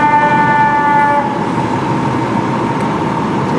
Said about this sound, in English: We have more emergency vehicles.